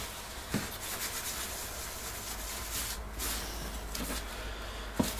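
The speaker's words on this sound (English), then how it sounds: "At this stage, the handles are also thoroughly degreased with acetone." Knife handles are rubbed down and degreased with acetone, producing a soft, continuous close rubbing with a few light knocks against a quiet workshop background.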